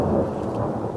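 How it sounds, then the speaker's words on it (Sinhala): Thunder rumbles low and steady through a rainstorm in misty hill country, with rain hissing on surfaces all around; no voices. "තාමත් අහස ගොරවනවා."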